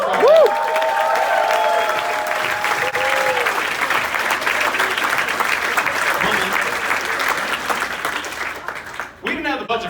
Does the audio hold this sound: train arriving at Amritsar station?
no